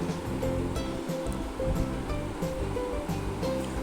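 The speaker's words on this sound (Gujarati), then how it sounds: "તો હવે આપણે એમાં પાણી નાખીશું" A steady rush of water pours continuously into a pot of eggplant and potato curry, with a full, broadband splashing sound that fills the entire clip.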